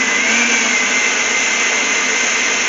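An Oster Kitchen Center food processor grating cheese: a loud, steady motor whine with a high hum, running continuously without pause.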